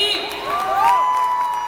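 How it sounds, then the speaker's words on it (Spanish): An audience cheers and whoops for Jenny at a tribute concert, a bright crowd roar beneath a sustained tone. "Un fuerte aplauso para Jenny."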